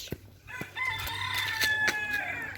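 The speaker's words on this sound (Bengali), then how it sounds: "ওইখানে আর একটা মুরগি পাওয়া গেছে" A rooster crows once in a village yard, a loud drawn-out call lasting nearly two seconds, with a few soft clucks and clicks around it.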